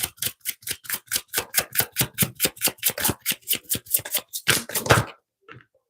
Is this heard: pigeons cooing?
no